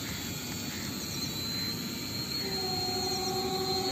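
A small E88 camera drone flies overhead outdoors, its rotors giving a steady high-pitched whine and hum at constant loudness throughout, with a faint tonal shift partway through and no talking.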